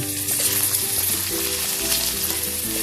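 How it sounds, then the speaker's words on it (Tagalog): Ginger sizzles in a pan alongside garlic for a homemade fried fish sisig, a steady close frying hiss running through the whole short stretch. "Tapos, gisa-gisahin po natin siya para lumambot siya."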